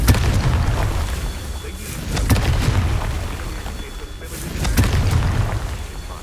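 Deep booming explosions from the Confringo fire spell in Hogwarts Legacy, two broad blasts a couple of seconds apart with rumbling low-end tails, loud and close over game ambience.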